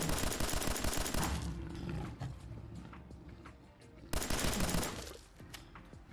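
Rifle fire from a lore-friendly Fallout 4 weapon mod aimed at a Deathclaw in the video game, heard as two loud bursts of rapid shots with a heavy low rumble and a quieter stretch of echo and growling between them.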